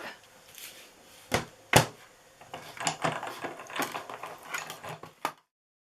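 A die cut and emboss machine runs while it cuts an alphabet set, giving close, irregular mechanical clicks, ratcheting and sharp knocks that build into a busy rattle before stopping abruptly.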